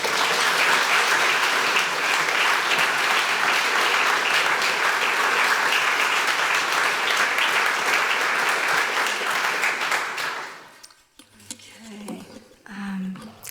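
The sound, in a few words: audience applause welcoming a lecture speaker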